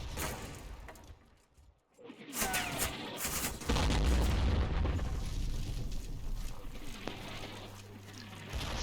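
Vickers machine gun laying down suppressive fire in Combat Mission during the Monte Cassino campaign, heard as dense rattling bursts blended with booming explosions and battle rumble, loud and continuous after a short lull.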